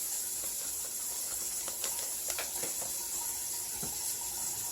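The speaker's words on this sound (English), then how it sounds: "Turn on the warm water." Warm water runs from a kitchen sink tap in a steady, soft hiss with faint splashing, fairly quiet and uninterrupted.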